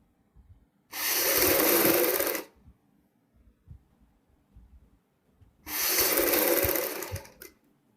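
A sewing machine stitches pink fabric and a rib strip for a V-neck kurti, running loud and close in two separate bursts of about one and a half seconds each, with quiet handling noise between them.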